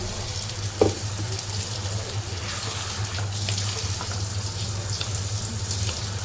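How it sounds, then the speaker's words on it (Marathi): Hot water is poured into a pan of ivy gourd cooking on a gas stove, giving a soft, steady splashing hiss with a faint low hum behind it. "त्याच्यात मी साधारण एक कप पाणी ओतते"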